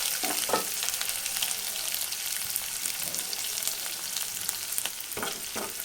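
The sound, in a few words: onions frying in oil for ridge gourd curry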